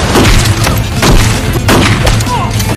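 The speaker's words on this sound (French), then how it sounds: "Jacques a évité de nombreuses balles et a commencé à riposter" Gunfire in a shootout against a Mexican cartel: loud, sharp shots crack in quick bursts over a low rumble, close and forceful, with a few separate blasts spaced through the passage.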